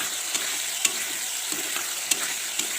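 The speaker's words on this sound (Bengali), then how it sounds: "পনিরের তরকারি রান্না করছি" Paneer curry fries in a pan under a steady close sizzle, with a spoon scraping and clicking against the pan every half second or so as it is stirred, no voices.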